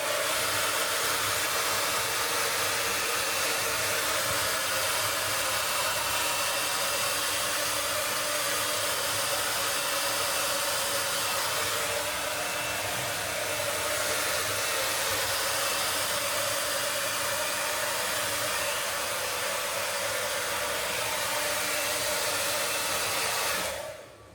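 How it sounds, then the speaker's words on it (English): A hair dryer blows steadily while drying a cowlick and the sides of a man's hair, a loud continuous broadband whoosh that holds throughout and cuts off at the very end. "I'm drying my cowlick so it doesn't lick. Drying the sides."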